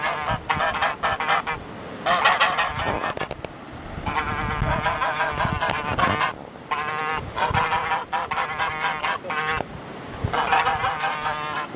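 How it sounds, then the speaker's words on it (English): Geese honking close by at a drinking stop along the Camino de Santiago in rural Spain, repeated loud nasal honks in clusters with brief gaps between them. "we've got some geese come to greet us"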